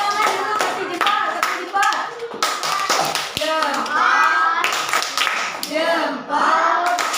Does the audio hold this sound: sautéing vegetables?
no